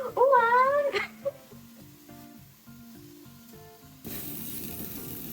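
Omelette curry cooking in a home kitchen begins sizzling loudly in the last second or so, as a steady broadband hiss, after a whining voice-like sound and a stepped melodic tune.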